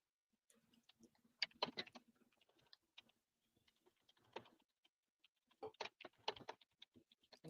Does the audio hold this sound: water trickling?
no